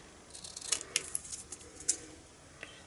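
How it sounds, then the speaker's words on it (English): Scissors cut freehand through black card: a quiet run of crisp, close snips and small clicks, irregular in timing, with a couple of sharper blade closures standing out in an otherwise hushed room. "And I'm just going to cut this out freehand."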